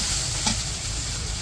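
Garlic and onion frying in a pan for a village-style leafy greens dish, with a steady broadband sizzle and a brief stirring scrape partway through, close and continuous without talk.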